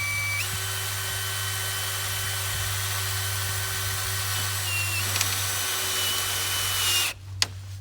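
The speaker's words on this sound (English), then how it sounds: "The drill on there will go right through the plastic." A power drill drives self-tapping hex-head screws into black plastic crates, whirring steadily for about seven seconds with a slight change in pitch as the screw bites, then cutting off sharply.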